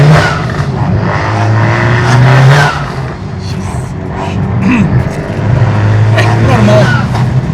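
Honda Civic Type R engine revving loudly nearby, a rising and falling exhaust roar with throttle blips, while people talk over it.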